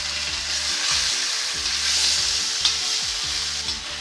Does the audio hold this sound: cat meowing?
no